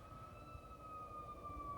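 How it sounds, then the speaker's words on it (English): An ambulance siren wails steadily outside, faint and distant beneath low traffic rumble. "here comes the ambulance"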